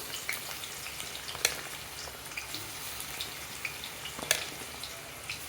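Chopped onion frying in hot oil with dried curry leaves for Chettinad chicken, giving a steady close sizzle dotted with sharp crackles and pops, with no voices.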